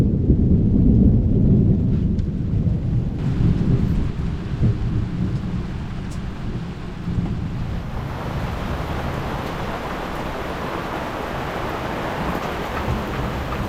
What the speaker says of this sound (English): the rain's in